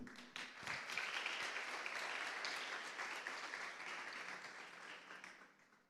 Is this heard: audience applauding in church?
yes